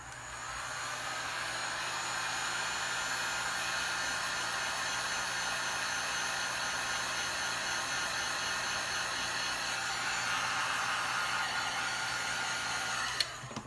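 A hair dryer heating an iPhone 11 Pro to soften the screen glue, a loud, constant airy roar held close for the whole stretch, cutting off with a click at the end.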